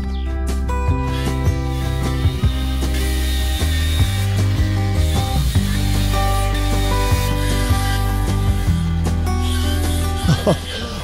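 A Milwaukee M18 Fuel battery power sweeper brushing a surface close to a house, its steady loud whirring machine hum continuing throughout with scraping clatter.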